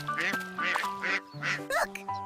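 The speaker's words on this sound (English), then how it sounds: "Quack, quack. I'm a duck too." A duck on a farm quacks in a quick series of about half a dozen nasal honks, fairly close and clear, with no talk over it.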